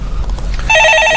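A telephone rings for an incoming call on a live stock-market call-in show, a loud electronic warbling ring cutting in abruptly after a moment of faint background noise.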